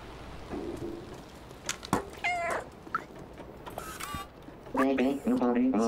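Cat meowing in the video game Stray, several short pitched meows scattered through the clip, ending in a louder run of repeated meows.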